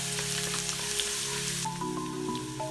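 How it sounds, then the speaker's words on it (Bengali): Chopped garlic dropped into hot vegetable oil with two or three ripe chillies, a close, fairly soft continuous sizzle with faint crackles, alongside a steady background hum and tonal drone, no talk. "এরই মধ্যে আমরা রসুন কুচি দিয়ে দিলাম"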